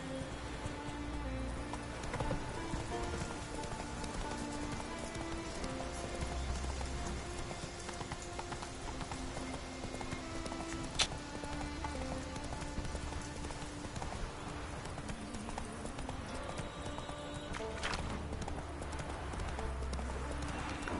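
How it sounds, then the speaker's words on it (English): Horse hooves clip-clopping in The Witcher video game, a steady rhythmic trot over a constant game ambience with faint patter like rain and a brief sharp click midway, no speech. "El caballo viene de las aguas también"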